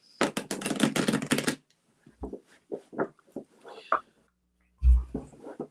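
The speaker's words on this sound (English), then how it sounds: "I'm shuffling. Oh yeah, I'm getting my deck." A deck of cards being shuffled, a rapid dense riffle of crisp flutters lasting about a second and a half, followed by softer scattered card handling noises and taps, close and alone.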